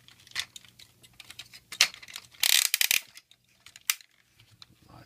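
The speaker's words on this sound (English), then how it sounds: "Lots of clickety ratcheting joints." Plastic ratcheting joints click and snap in quick bursts as a Transformers Combiner Wars Constructicon toy, Long Haul, is twisted into its truck alt mode, with a dense clatter in the middle and sharp isolated clicks around it.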